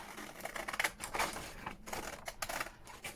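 Paper being trimmed down into a journal card from Amazon packaging junk, with a run of quick, close, crisp snips and rustles and no talking.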